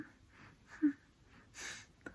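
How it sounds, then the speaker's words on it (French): Soft, small breaths close up in a quiet room, a few gentle inhales and exhales with a brief snuffle near the end. "Vous entendez sa petite respiration."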